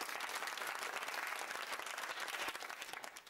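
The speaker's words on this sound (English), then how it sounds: "Big applause for Mike and Tom." A studio audience on the Countdown game show applauds steadily throughout, a dense, close wash of clapping that tapers slightly at the end.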